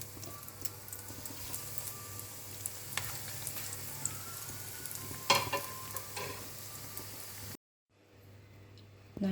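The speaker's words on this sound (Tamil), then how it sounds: "இதை நல்லா கிறிஸ்பியாக பொரிச்சிக்கோங்க" Sardine cutlets fry in hot oil with a steady, low sizzle and occasional clinks of a utensil nearby, then the sound cuts out briefly near the end.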